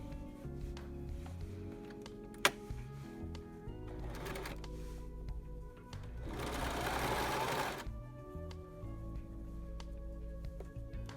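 A sewing machine stitches the first seam of a fitted fabric face mask, a steady mechanical whirr that speeds into a louder, faster burst midway before slowing back down.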